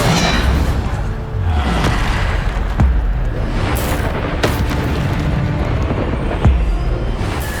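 Spell explosions in Hogwarts Legacy game combat: dense, continuous booming blasts and bursts with whooshing impacts, loud and close, layered one after another without pause.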